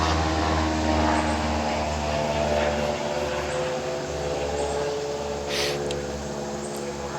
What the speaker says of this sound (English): every once in a while you'll hear planes flying overhead here